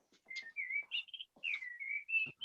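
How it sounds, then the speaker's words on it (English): Birds chirp and whistle in clear, repeated tonal phrases, close and fairly loud, with short gaps between calls and no talking. "Oh, those birds are beautiful."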